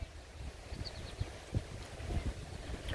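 Gusty wind from a thunderstorm gust front rushes and buffets the microphone in steady, close, rough bursts, with no voices over it.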